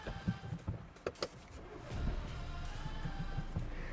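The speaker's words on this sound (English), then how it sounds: "Starting the car" A car with a manual gearbox starts up, a few clicks and thumps followed by the engine catching into a steady low idle, fairly quiet and close.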